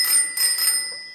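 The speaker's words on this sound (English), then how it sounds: "I've left some room for a bell" A bicycle bell rings loudly and close, a bright sustained metallic ring that fades out after about a second, with no one talking.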